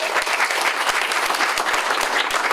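Audience applause for Smokestack Roasters, the caterers at a youth art show, steady and close throughout, with a few sharper claps standing out from the dense clapping.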